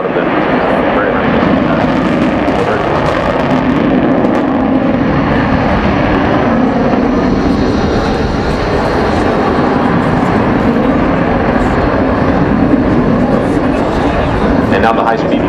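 An F-18 Super Hornet jet roars loudly through an acceleration pass at the Farnborough Airshow 2012, a continuous thick engine rumble and rush that stays steady throughout, with someone talking over it.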